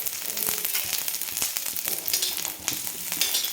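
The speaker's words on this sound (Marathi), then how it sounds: "खोबरा टाकू आपण थोडंसं आणि किंचित एकदम तेलाची धार सोडायची आपल्याला" Grated coconut and spices roasting in a drizzle of oil in a pan, giving a steady, dense sizzle with crackling pops and occasional stirring scrapes throughout.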